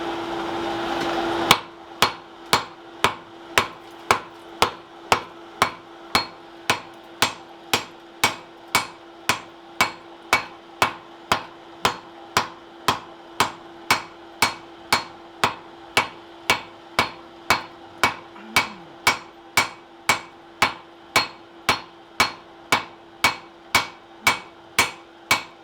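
A hammer head being forged and squared by hand, one brief lone sound at the start, then a long, steady run of about forty sharp, evenly spaced hammer blows on the hot steel, loud and close.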